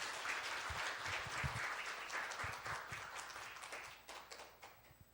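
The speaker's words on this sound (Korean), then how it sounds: "박수 부탁드립니다." Congregation applause at a Korean church's Christmas Day morning service during a certificate presentation, a dense steady clapping from many hands that tapers slightly toward the end.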